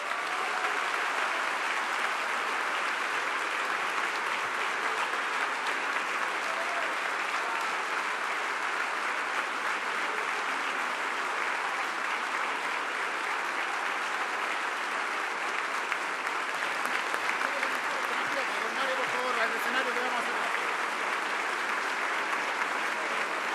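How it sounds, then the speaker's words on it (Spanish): Sustained applause after a speech by Comptroller Dorothy Pérez at the ENADE 2025 business conference, a large audience clapping in a dense, unbroken roar that stays level for over twenty seconds. "Aplauso"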